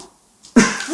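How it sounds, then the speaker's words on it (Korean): A 70-year-old man with a week-long cough lets out a single harsh, loud cough after a moment of near silence, close to the listener. "당신 웬 기침을 그렇게 해요?"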